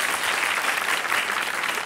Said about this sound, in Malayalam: നല്ലൊരു ഗംഭീര കൈയടി ലക്കി സ്റ്റാർസിന്